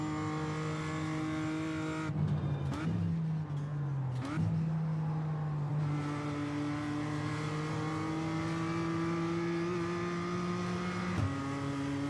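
A BMW M2 race car engine in iRacing drones steadily in a strong tonal whine, dropping in pitch during two quick downshifts before holding a sustained high note, with a voice talking over it.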